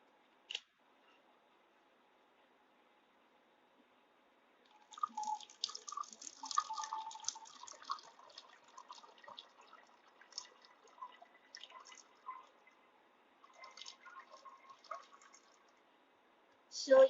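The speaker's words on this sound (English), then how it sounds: "First of all, I'm going to pour the water inside this bottle." Water is poured into a plastic bottle, giving faint, intermittent splashing and dripping that starts after a quiet lead-in and comes in scattered bursts.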